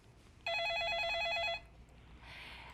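A telephone rings once with an incoming call, a bright electronic trill of rapid repeated pulses lasting about a second, loud and clear over a quiet room.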